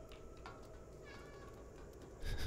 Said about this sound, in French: appuyer sur F pour miauler